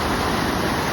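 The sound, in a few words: Merced River flowing in Little Yosemite Valley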